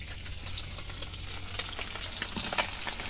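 Bitter gourd frying in a pan with a continuous, bright sizzle and crackle, fairly quiet and close, with a few stirring scrapes and no talking.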